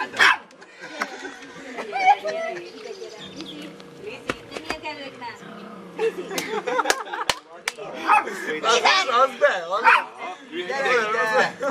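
A dog barks, yips and whimpers in repeated bursts at a house party, close by and loud, with people talking over and between the barks.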